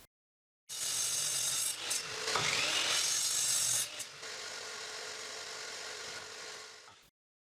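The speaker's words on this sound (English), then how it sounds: "I will use the miter saw to cut the legs." A miter saw cuts through pallet wood for chair legs, a loud continuous whirring rasp that rises as the blade bites midway, then eases and runs steadily before cutting off abruptly.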